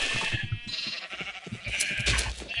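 Several sheep on a large video-game farm bleat close by, their calls overlapping in quick succession with no talk.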